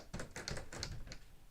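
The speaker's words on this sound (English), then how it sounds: "So let's begin typing." A LEGO Ideas Typewriter 21327 being typed on, with a quick run of plastic key clacks and taps at an uneven pace, close and fairly quiet, with no voices.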